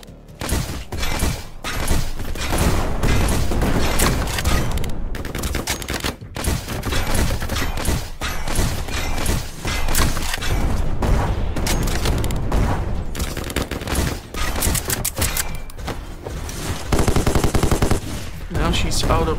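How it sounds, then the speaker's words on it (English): Rocket launcher fire aimed at a boss in the game Black Skylands, heard as dense, continuous bursts of explosive gunfire-like blasts that stay loud and busy throughout. "Using the rocket launcher to soften her up."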